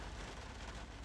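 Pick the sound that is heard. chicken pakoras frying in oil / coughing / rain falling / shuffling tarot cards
rain falling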